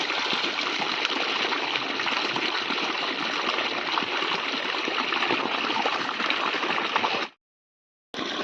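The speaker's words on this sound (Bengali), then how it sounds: "অটোমেটিক মাটির তল থেকে জল বেরোচ্ছে" Water gushes steadily from an opening in the ground, a loud continuous rushing and bubbling that runs unbroken for about seven seconds, then cuts off abruptly into silence before briefly returning.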